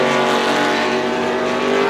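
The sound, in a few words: GT300 Super GT race cars passing at Autopolis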